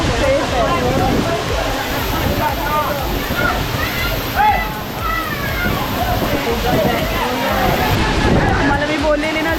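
Rautwadi waterfall plunging from a height, a loud continuous roar and splashing rush of water close by, with voices chattering underneath throughout.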